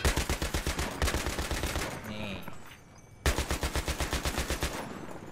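Automatic gunfire in the military shooter Battlefield 3 hammers out in rapid, evenly spaced bursts, loud and close, with a short pause and faint clatter before a second long burst resumes.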